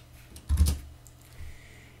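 Typing on a computer keyboard while entering a Linux terminal command, a short burst of close clicks followed by a fainter keystroke, no talking.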